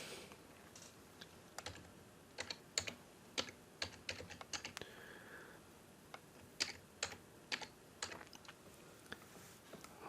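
Quiet keystrokes on a computer keyboard as a database name is typed, coming in short irregular bursts of clicks with small pauses between, close and soft with no talking.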